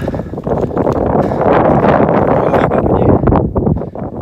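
Strong wind roars and buffets the microphone on the summit of the Caroux mountain, loud and continuous throughout, with a person speaking French underneath.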